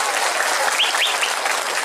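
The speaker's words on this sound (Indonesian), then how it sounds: "Tepuk tangan untuk Pak Prabowo." Audience applause at a gathering at Gus Miftah's padepokan, a dense steady wash of clapping for about two seconds with a few faint whistles or cries poking through.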